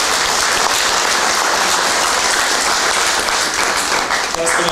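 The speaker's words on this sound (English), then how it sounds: "One more round of applause for Tanae Smith" A crowd applauds at a school ceremony recognizing student athletes signing letters of intent, a loud, dense wash of clapping that continues evenly throughout, with a voice faintly audible near the end.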